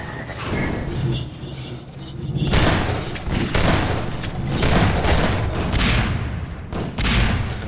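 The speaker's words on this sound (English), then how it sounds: "Nice shot there by Shogo." Rapid gunfire and booming weapon blasts from a Half-Life 2 Deathmatch multiplayer match, loud bursts of shots and thuds continuing throughout with brief lulls.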